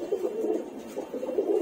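A brown pigeon with pink eyelids, a Madrasi breed, coos in two soft, close phrases with a short pause between them, with no voices.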